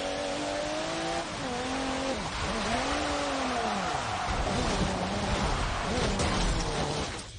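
A race car engine in a sim racing game drifting on track, with revs climbing and dropping through repeated gear shifts, its loud buzzing tone sweeping up and down over steady tire and road noise.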